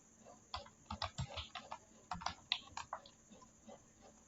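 Quiet, close clicking of computer keyboard keys in short irregular bursts as a web address is typed, with a faint steady electronic whine underneath.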